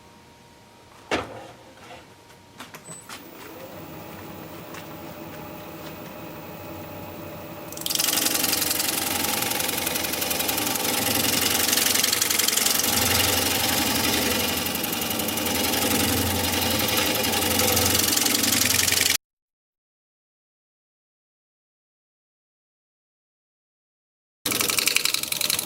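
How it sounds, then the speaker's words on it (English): A lathe spins a cork oak bowl while a shear scraper refines its small pedestal: a steady motor hum, then a louder continuous scraping whir, a sudden silence and the machine starting again. "I'll do a little shear scraping on this side, try and refine this little pedestal"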